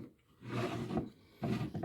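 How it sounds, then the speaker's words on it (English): Refinished wooden drawers of a Gerstner leatherette machinist toolbox slide open and shut, giving two short wooden rubbing scrapes, close and moderately loud, with no talk. "Drawers all work nice."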